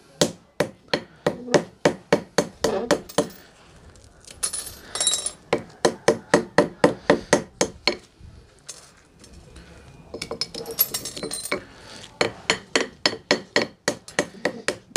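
A hammer taps a spherical flowerpot in fast, even runs of sharp ringing strikes. Brief pauses between the runs are filled with softer gritty scraping. The taps are close and fairly loud, and no one speaks.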